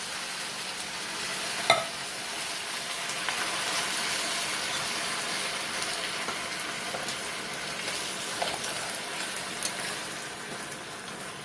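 Chicken stew with Italian-style stewed tomatoes being stirred in a pot, a steady soft sizzling and scraping texture with occasional louder clicks of the spoon against the pan, close and continuous with no talking.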